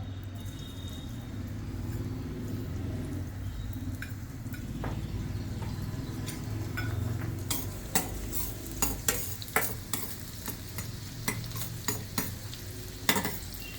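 Garlic fries in a pan for a mushroom cheese toast, a continuous close sizzle with stirring scrapes that grow busier and louder toward the end, punctuated by sharp utensil knocks.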